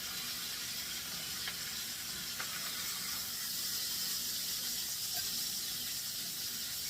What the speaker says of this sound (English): we're going to scrape the bits of that are stuck to the pan off.